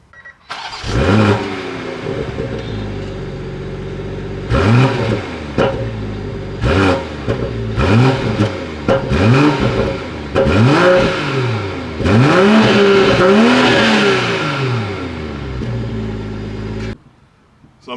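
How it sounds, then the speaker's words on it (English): A BMW sports car engine is revved hard about a dozen times in sharp rising-and-falling blips, loud and close, then cuts off abruptly; no one speaks. "let's hear what this car sounds like."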